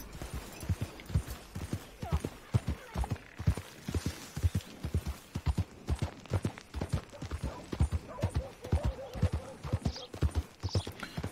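Horse hooves clip-clopping steadily as a horse is ridden in the Red Dead Redemption 2 video game, a regular rhythmic stream of close, clear hoof falls with a faint voice now and then.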